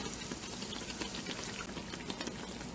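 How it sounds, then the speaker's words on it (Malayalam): Muttappathiri, a Ponnani-style fried bread, frying in hot oil in a pan: steady, dense bubbling and sizzling, close and continuous, with no voices. "ഒരു സൈഡ് വെന്തിട്ട് ഫ്രൈ ആയി വരുമ്പോൾ നമ്മൾ ഒന്ന് മറിച്ചിട്ട് കൊടുക്കാം"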